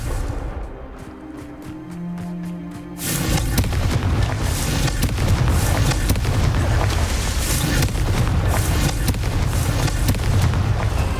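A Confringo blasting spell explodes in Hogwarts Legacy, a sudden loud boom that gives way to a sustained roaring rumble of debris and fire lasting several seconds, with no talking.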